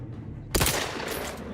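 Gunfire erupts in The Outer Worlds 2 video game, a sudden loud burst of rapid shots after a quiet low hum, with rattling reverberation trailing off.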